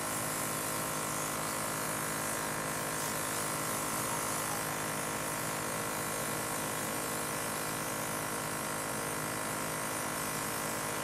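Temptu airbrush spraying foundation makeup gives a steady, continuous hissing buzz with a faint motor whir, close and unbroken throughout with no talking.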